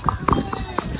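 Hooves of a ridden horse clip-clop in quick, uneven steps while the rider turns it through a crowded area in Bihar, with voices murmuring in the background.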